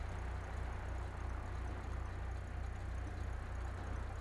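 Convertible BMW with a modified exhaust in GTA 5, its engine idling with a steady low throbbing rumble and continuous even drone, close and alone without talk.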